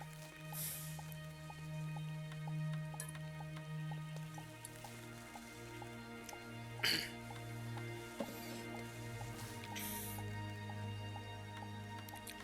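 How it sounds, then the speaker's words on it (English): Soft, steady rain patters under gentle, sustained synthesized music in the game Starbound, with a few faint drip-like taps and no talking. "Here we have rain! And it sounds so pretty."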